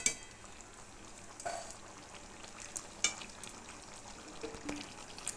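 Pointed gourd and prawn curry in a pan bubbles and sizzles at a low, steady level, with occasional soft clinks of a utensil against the pan and no talking.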